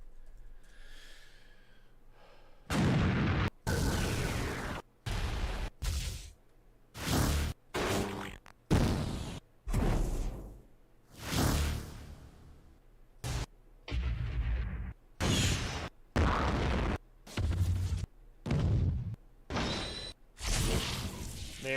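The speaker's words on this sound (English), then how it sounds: "Sci-fi explosion happens right here." Sci-fi explosion sound effects in a game play as a rapid series of loud, booming blasts and whooshes, each short and punchy with brief gaps between them.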